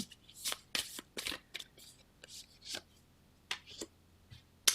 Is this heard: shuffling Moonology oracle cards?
yes